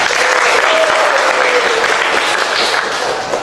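A class of students claps together in a steady burst of applause, loud and continuous for several seconds before easing slightly at the end, with no talking over it.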